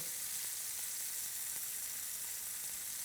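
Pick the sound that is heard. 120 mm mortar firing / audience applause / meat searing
meat searing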